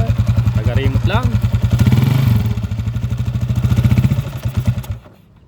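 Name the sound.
motorcycle engine started with the push-button starter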